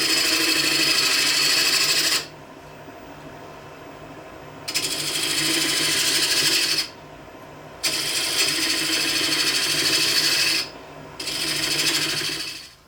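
Wood lathe turning a wooden toy tire down to size, with three loud sustained bursts of whirring, scraping cutting separated by quieter pauses where only the motor hums, close and without talk.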